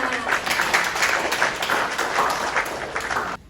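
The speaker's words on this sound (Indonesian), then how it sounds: "Beri tepuk tangan" A classroom of students claps for a classmate after a math presentation; a lively burst of many hands clapping for about three seconds, then cutting off abruptly, with a faint voice mixed in.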